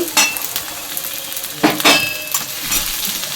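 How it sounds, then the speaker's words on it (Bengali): Eggplant frying on a high gas flame in a pan, a steady close sizzle with several sharp clinks and scrapes from a utensil as the pieces are stirred, and no talking. "এর মধ্যে বেগুনটা দিয়ে দেব, বেগুনটাকেও একটু ভেজে নেব।"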